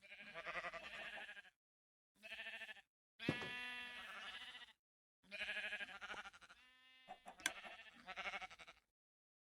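A sheep in a survival video game bleats several times, loud and close, each call separated by brief silences.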